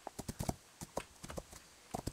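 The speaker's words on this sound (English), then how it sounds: "back up straight into canter" Hoofbeats of a horse cantering in the Rival Stars Horse Racing video game, a quick uneven run of close, crisp clip-clops in rhythmic groups.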